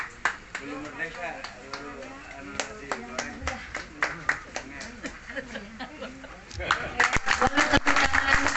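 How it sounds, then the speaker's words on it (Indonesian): An audience at a political declaration rally in Subang, Indonesia, claps in scattered, uneven bursts beneath continuous speech and crowd chatter, swelling louder and denser toward the end. "Boleh tepuk tangan sekali-kali."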